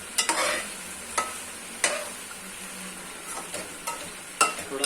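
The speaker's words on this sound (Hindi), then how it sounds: "चिकन को भूनना है, अच्छे से भूनना पड़ता है।" Ground chicken keema frying on a full flame, dhaba style, with a steady close sizzle broken by repeated sharp scrapes and knocks of a spoon stirring in the pan, about a second apart.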